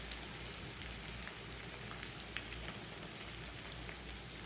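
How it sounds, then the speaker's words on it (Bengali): Chopped onions fry in a pan for an egg and potato curry, a faint, even crackling sizzle with light stirring ticks, no talking. "এখন এর মধ্যে আমি দিয়ে দিচ্ছি কিছু পেঁয়াজ কুচানো একটু নাড়িয়ে চাড়িয়ে দিয়ে দেবো"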